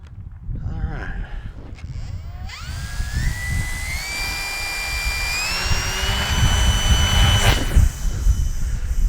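An electric motor and folding propeller on an SZD-54 RC power glider rise to a climbing whine at launch, loud and close over wind and outdoor rumble.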